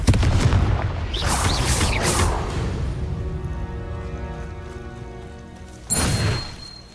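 Confringo blasting spells go off in the video game Hogwarts Legacy: a few loud booming bursts, one at the start, one in the first seconds and another near the end, with a ringing tonal tail between them.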